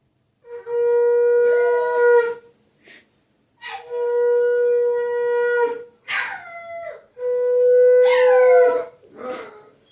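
Puppies howling in the evening during a household prayer with conch blowing, several long drawn-out wavering howls in close succession with short pauses, loud and near, ending in yips and whimpers.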